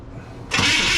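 A Chevrolet C10 truck engine with a freshly installed carburetor cranks and catches halfway through, jumping abruptly from near quiet to a loud, steady broadband roar that holds to the end.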